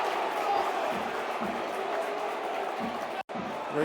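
Bristol City home football crowd at their ground during a match against Millwall, a steady broad roar of massed voices with murmured chanting, loud and continuous apart from a brief cut near the end.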